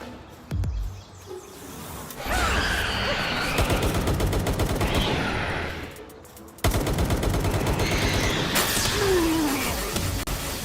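Rapid bursts of automatic gunfire from an enemy rattle through a Palworld game scene in two long volleys, loud and close, broken by a short lull, with a faint bird call in the background.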